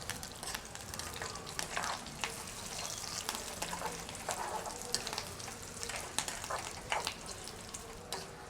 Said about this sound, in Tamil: அந்த கருவேப்பமில்லை இந்த செத்தல் மிளகாய் எல்லாம் பொரிஞ்சு அப்படியே விரட்டுக்கும்